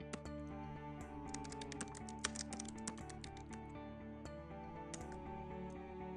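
Keys clatter in a quick run of clicks on a computer keyboard as a shortcut is entered in the GQueues task app, over a steady hum of background music, with no talking.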